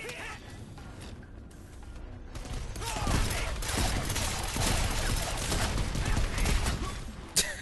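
Dense gunfire and bullet impacts in the action game Strider, a chaotic barrage of shots and smashing hits, loud and continuous, swelling midway.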